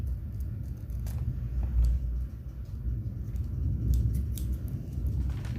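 Scissors cutting through a big plastic bag from a squishy package, heard as a few short, crisp snips and rustles over a steady low rumble.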